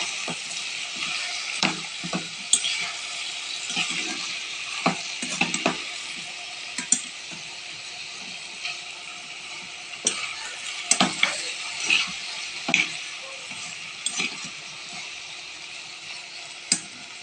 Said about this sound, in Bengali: এরপর যে আমি ঢেঁড়স ভাজিটা বসিয়ে দিয়েছি